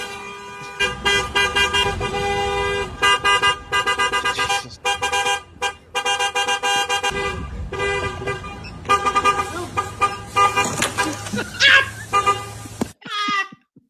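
Car horns honk again and again in traffic for a birthday sign on a car, loud short and long blasts in an irregular rhythm, some overlapping, with a brief gap near the end.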